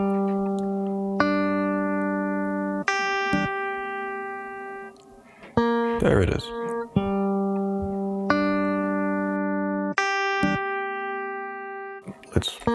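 Looped guitar recording played back on an Empress Zoia pedal, clean sustained tones repeating in even phrases of several seconds, with brief bursts of scraping noise between notes and a short spoken phrase.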